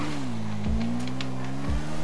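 A motorcycle races at high speed in GTA RP with a loud, close, steady engine whine. Its pitch drops sharply twice as the rider shifts gears.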